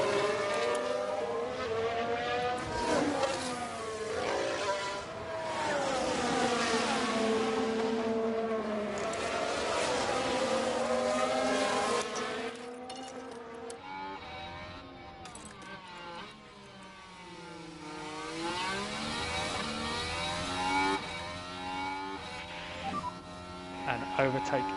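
F1 race cars lapping fast in the video game F1 Manager 23: high-pitched engine whines rise and fall in sweeping pitch bends, continuous and loud with a person talking over them.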